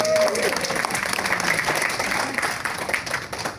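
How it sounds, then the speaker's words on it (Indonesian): An audience applauds at an Indonesian political gathering, broad steady clapping that tapers off toward the end, with voices heard over it. "Tepuk tangan dong."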